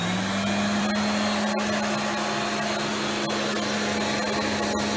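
Rainbow D3c canister vacuum cleaner running steadily up close, a loud continuous motor drone with a strong low tone and broad airy rush, with occasional faint clicks and no talking.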